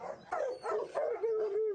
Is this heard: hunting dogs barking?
yes